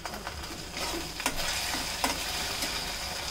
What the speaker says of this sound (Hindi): इसको अच्छी तरह से मिक्स कर लेंगे